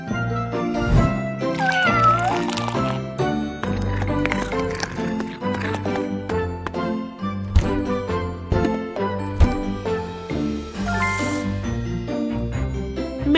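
A cartoon kitten meows several times over busy, bouncy background music, with voices heard now and then.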